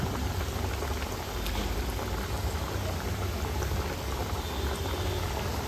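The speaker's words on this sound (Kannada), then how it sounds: "ಎಣ್ಣೆ ಬಿಸಿಯಾಗಿದೆ, ಫ್ರೈ ಮಾಡ್ಕೊಳ್ಳೋಣ" Semolina sweet dough balls fry in hot oil, giving a steady, dense sizzle and bubbling that stays fairly loud and even throughout with no talking.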